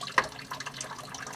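Water spills and splashes from a freshly cut water pipe, a short burst of running, trickling liquid with a brief splash near the start, fairly close and alone.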